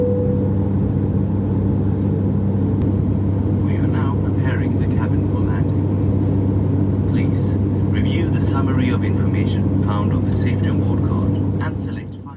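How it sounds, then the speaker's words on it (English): Cabin of a Scandinavian Airlines ATR 72-600 turboprop in flight, a constant loud low drone and propeller hum filling the whole stretch, with murmured voices and faint clinks on top. "Being a propeller plane, there is more vibration and noise on board than most jet aircraft"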